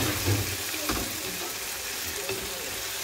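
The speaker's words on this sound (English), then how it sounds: "So I'll give my onions some time to cook" Onions frying in a pan for pilau, a soft continuous sizzle with faint scraping of a stirring spoon, quiet and close with no talking.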